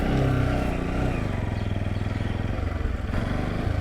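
A motorcycle engine idles and revs steadily at close range while the bike is turned around and maneuvered to park beside a roadside tea stall at Totitole, Nepal.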